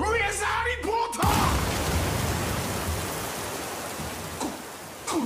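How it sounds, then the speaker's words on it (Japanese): Rain summoned by the Weather Report stand in an anime pours down as a steady hiss of heavy rainfall, beginning abruptly after a brief shouted voice and continuing loud and even to the end. "こいつ、ウェザーリポートに雨を降らさせやがった"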